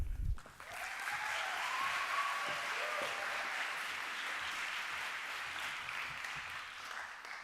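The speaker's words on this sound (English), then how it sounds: "clap loudly" A student fine arts awards audience breaks into applause: a dense, steady wash of many hands clapping, sustained throughout and heard from a little distance in a large hall, with no talk.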